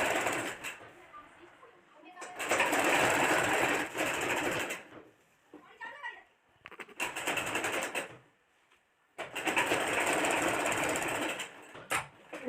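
Sewing machine stitching a churidar pajama, running in loud rapid bursts of a few seconds each with brief pauses between them, while someone talks quietly in the gaps.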